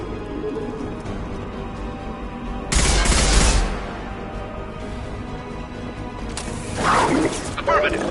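Gunfire in the video game Mass Effect 2, dense bursts of shooting that swell loudly at two points amid combat voices and shouted callouts.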